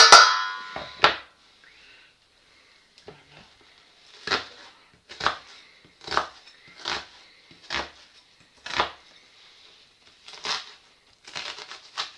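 A knife chops half an onion on a board in a home kitchen, with about ten sharp, close cuts in an uneven rhythm after a louder rustle at the start.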